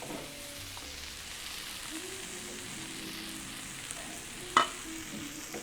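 Onions cooking in a pan for flammkuchen, a low, steady sizzle that stays quiet and even throughout, with a single sharp clink or scrape near the end.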